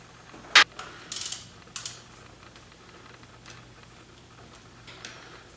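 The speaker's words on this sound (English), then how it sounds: "I'm going to crack these 3 Allen bolts, get those loosened up" A ratchet loosens 5 mm Allen bolts on the intake boot of an XR 650L motorcycle, giving a sharp crack and a short run of close mechanical clicks, then quiet tool handling.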